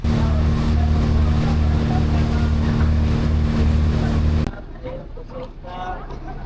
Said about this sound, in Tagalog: nakasakay na kami sa bangka. Tatawid na kami papuntang Boracay Island